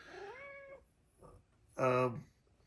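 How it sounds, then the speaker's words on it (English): An elderly 20-year-old pet cat meows twice up close: a long drawn-out meow, a brief faint sound, then a louder, fuller second meow, with no one talking. "This is what I go through with this kitty cat."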